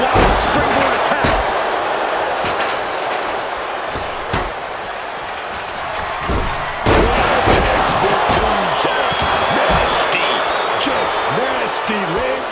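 A wrestler's springboard attack slams down in a WWE 2K26 three-on-three Tornado tag TLC match, with several heavy thuds hitting over a steady roaring arena crowd and game commentary.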